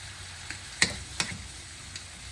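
Stir fry of budget ingredients cooking in a pan over raised heat, a low steady sizzle with a few sharp clicks and taps of a utensil, heard close with no talking.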